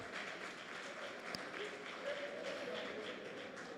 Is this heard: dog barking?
no